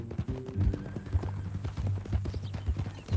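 Horse hooves clip-clop in Red Dead Redemption 2, a close, steady walking rhythm of hollow knocks over low in-game ambience and a sustained tone.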